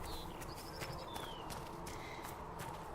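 Horse hooves clop at a walking pace in the Dragon Age Inquisition video game, faint and steady beneath ambient background with a few bird-like chirps.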